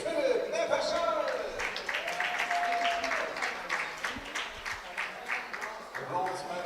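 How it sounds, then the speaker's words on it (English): Audience applause at a 10m air rifle solo medal match, greeting a Czech shooter at position D, sustained clapping that holds steady and fades slightly, with a voice speaking over it and tonal bands in the background. "get ready for the applause for position D"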